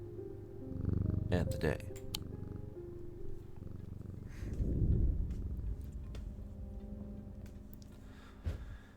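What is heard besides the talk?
cat purring when petted, from the video game Strange Antiquities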